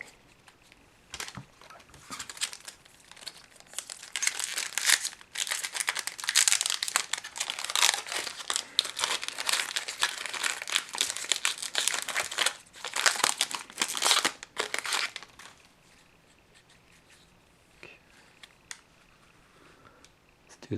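Magic: The Gathering Modern Horizons booster pack foil wrappers crinkle and tear loudly up close in rapid, bursty handling, easing off into quieter rustles toward the end.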